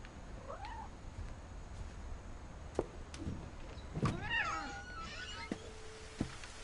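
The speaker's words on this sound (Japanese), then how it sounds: "今猫いたな。" A cat in the video game What Remains of Edith Finch gives a few short, rising meows amid faint background ambience, with sharp clicks and knocks scattered between them.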